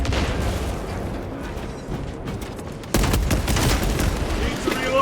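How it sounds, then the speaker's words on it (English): A krak grenade detonates in Warhammer 40,000: Space Marine 2, a loud, sudden blast that lifts the level partway through amid ongoing gunfire and combat noise, with a voice briefly heard. "Using crack grenade."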